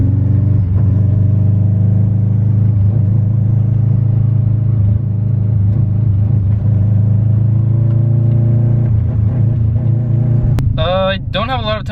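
An abandoned Subaru WRX being driven after engine repairs, a steady low engine drone with road rumble from inside the car throughout, and a voice briefly heard near the end.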